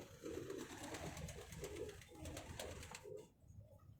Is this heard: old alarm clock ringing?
no